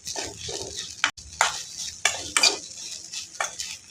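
Pundi greens are stir-fried in a pan for chutney, a utensil scraping and clinking against the metal in irregular strokes over a soft sizzle, close and clear, without speech.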